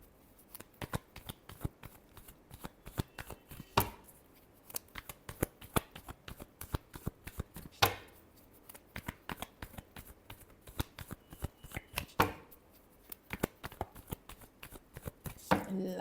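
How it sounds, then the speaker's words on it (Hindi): Tarot cards being shuffled by hand in rapid, repeated riffles and taps, crisp and close, continuing steadily with brief pauses and no talk. "last shuffle,"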